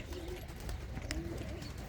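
Pigeons kept by a fancier in a Punjabi village coo in short low bursts, faint and somewhat distant, with a brief sharp knock midway.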